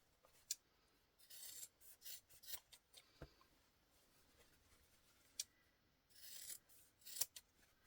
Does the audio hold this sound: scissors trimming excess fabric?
yes